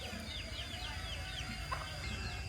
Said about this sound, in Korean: 닭도 있습니다